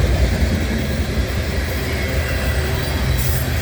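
A loud southbound CN oil freight train rumbles past close by, with continuous heavy wheel noise, rail clatter and a faint squeal, no voices.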